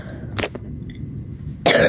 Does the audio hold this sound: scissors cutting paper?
no